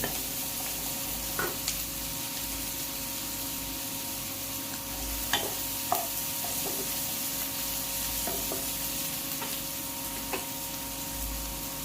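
Tomatoes and onions sauté in a pan for an egg curry as salt goes in: a steady, close frying sizzle with occasional sharp clicks of a spoon stirring, and no talk.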